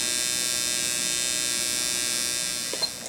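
A permanent makeup eyeliner machine runs at 120 with a steady, close, high-pitched electric buzz and hum that holds evenly before easing slightly near the end.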